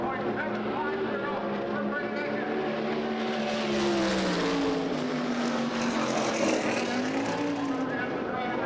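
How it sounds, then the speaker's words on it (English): A USAC Silver Crown race car roars around the Springfield Mile dirt oval, its engine note sustained and rising slightly as it passes, under steady announcer commentary. "Terry Babb on the racetrack, driving the number 88 car out of Decatur, Illinois"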